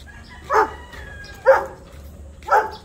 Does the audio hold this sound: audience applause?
no